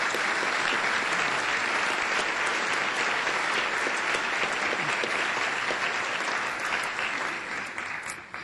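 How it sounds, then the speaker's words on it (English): Steady, full audience applause fills the hall at a 2007 State of the City address, a dense wash of clapping that holds evenly and begins to thin near the end. "Let's give them a round of applause"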